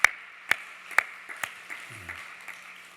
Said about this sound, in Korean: 우리 박수로 하나님께 영광 돌리고 격려하겠습니다